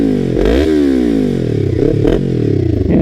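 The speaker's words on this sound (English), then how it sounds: "this thing sounds sick. Take a listen." A Yamaha MT-03 motorcycle engine revs up and falls back several times, its pitch sweeping in repeated swells over a loud, steady idle, heard up close.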